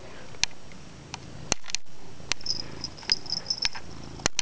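A house cat purrs up close with a soft low rumble, broken by sharp clicks and taps of handling and a brief high whine in the middle of the recording.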